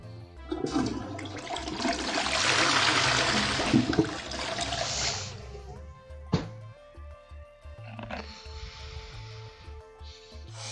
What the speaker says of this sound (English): I forgot to flush the toilet.